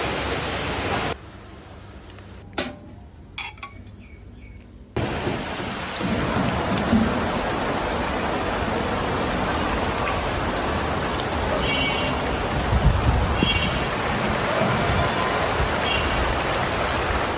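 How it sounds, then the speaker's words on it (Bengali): Heavy rain pours down in a dense, steady roar after a few seconds of quieter sound, with occasional louder gusts of spatter. "এত জোরে বৃষ্টি"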